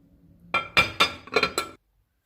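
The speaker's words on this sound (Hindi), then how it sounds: "अब इन सारी चीज़ों को मिक्स कर देंगे" Bowl ingredients for a chilli fish marinade being mixed, with five or six sharp clinks of a utensil against the bowl in quick succession, close and clear, then quiet.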